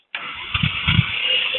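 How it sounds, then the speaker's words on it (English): A DC motor, preloaded with about 20 amps, starts under an open source AC controller test and spins up: a sudden onset into a steady whirring drone with some low thumps as it gains speed, close and fairly loud, no talking. "when the DC motor starts, it won't spin up quite as quick"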